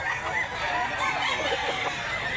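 Muff Gray gamefowl, a nine-month-old chicken at a poultry market in Mantalungon, Barili, Cebu, making steady clucking and crowing-like calls amid continuous busy background noise.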